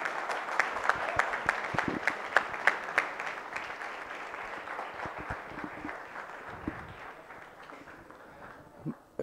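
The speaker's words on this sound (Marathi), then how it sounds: "जोरदार टाळ्या झाल्या पाहिजे यांच्यासाठी." Enthusiastic applause from an audience at a project competition prize distribution, dense clapping that stays strong at first and then gradually thins and fades toward the end.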